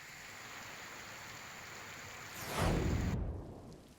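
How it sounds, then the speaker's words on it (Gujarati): Steady rain hisses throughout in Dabhoi, Gujarat, then a deep rumble of thunder swells and fades near the end. "વીજળીના કડાકા ભડાકા સાથે વરસાદ"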